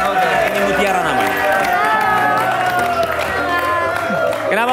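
A studio audience at a televised Indonesian dating show claps and cheers for a contestant named Mutiara, a steady wash of applause and crowd noise beneath music and voices.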